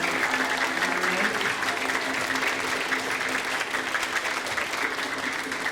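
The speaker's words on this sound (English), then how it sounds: "give them a round of applause for all they do to support today" Dense, sustained applause fills a school hall at a fifth-grade spring concert, a large crowd clapping evenly and loudly throughout without a break.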